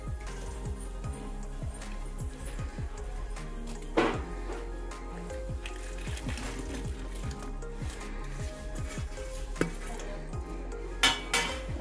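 Fried bread pieces are turned in sugar syrup in a pan for double ka meetha, with a spoon scraping and clinking against the metal in an irregular stirring rhythm, close and steady throughout.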